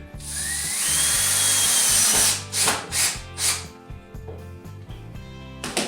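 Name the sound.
driving 2-inch screws into wood jig with drill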